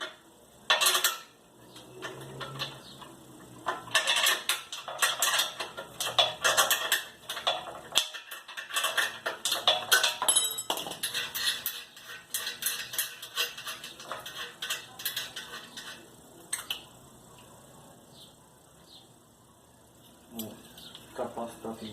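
Pliers loosening and adjusting parts of a refrigerator compressor, with irregular metallic clicks, taps and scraping clatter in bursts, close by, under intermittent talking.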